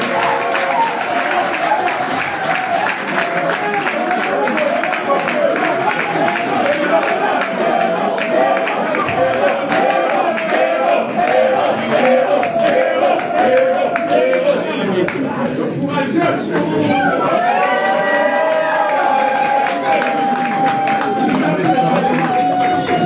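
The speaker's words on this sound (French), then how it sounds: "Le président Anissa Ikané, que je voudrais qu'on applaudisse une fois de plus" Applause and cheering from a crowd at a political press conference, a dense, steady wash of clapping and voices that carries on for over twenty seconds, loud and close.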